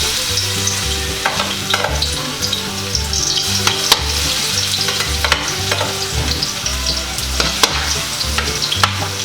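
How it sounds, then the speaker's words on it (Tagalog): Garlic sizzles and crackles steadily in hot cooking oil for a beef pochero, a close, continuous frying hiss with scattered sharp pops and occasional stirring scrapes, no voices. "Ayan, mainit na po yung ating mantika. Ngayon, ilagay na po natin yung ating bawang."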